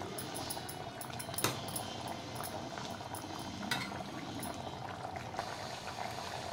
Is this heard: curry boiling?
yes